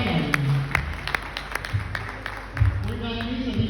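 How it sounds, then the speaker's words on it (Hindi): An audience claps loudly for a poet after a recitation. The scattered, uneven claps run under a speaking voice and other background sound throughout. "बहुत जोरदार तालियां एक बार कुंदन जी के लिए, जोरदार तालियां।"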